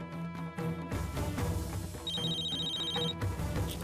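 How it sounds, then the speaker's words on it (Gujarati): A telephone rings in a bright, repeating electronic tone partway through, heard over a dense background of music and sound. "ફોન વાગે છે, ઉપાડી લે"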